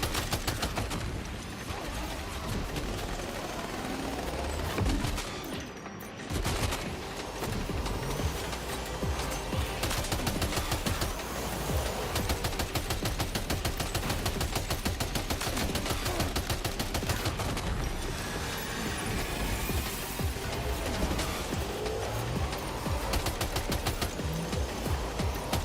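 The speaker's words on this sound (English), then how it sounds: "can I just keep shooting them?" Rapid, sustained gunfire aimed at enemies in the video game Death Stranding 2, a dense, continuous rattle of automatic shots with a rumbling vehicle underneath, briefly dropping out partway through.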